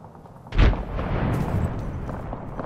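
A frag grenade explodes in the Apex Legends video game, a single loud, close boom with a low rumble that lingers and tails off over a couple of seconds.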